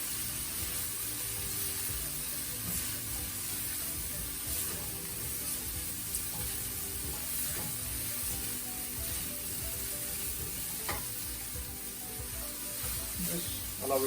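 Onions sizzle in a pan while being mixed, a faint, steady crackling hiss running throughout, with a few soft scrapes and clicks of the stirring utensil.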